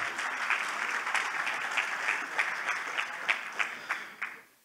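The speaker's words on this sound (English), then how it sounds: "Then a big applause for Agustín." Applause from a working-group session audience for Agustín, a steady patter of clapping that thins into a few distinct, spaced claps before stopping.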